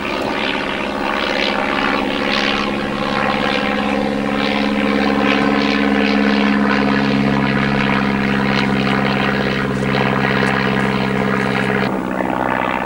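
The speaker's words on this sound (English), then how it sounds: "An old biplane up above us, unusual sight." An old propeller biplane passes overhead above a footpath in Exmoor National Park, its engine a loud, continuous droning hum that holds steady for over ten seconds.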